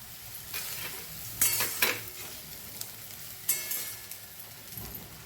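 Soaked puffed rice, poha and sago with onion frying in a pan, a steady sizzle broken by several sharp scrapes and clinks as a utensil stirs the mixture.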